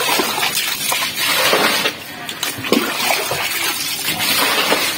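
Water released from a dam rushes and splashes in a steady, loud flow nearby, with a brief dip in volume partway through.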